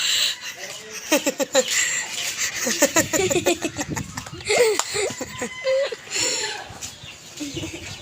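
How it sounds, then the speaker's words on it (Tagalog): Chickens cluck intermittently beneath people talking and laughing nearby, the voices louder than the birds. "dami kami manok dito"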